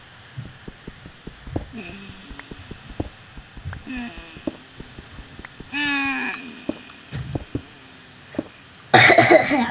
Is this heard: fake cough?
yes